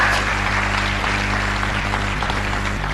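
Classroom applause in a communication skills class, a continuous round of clapping from the students that stays steady and fairly loud throughout.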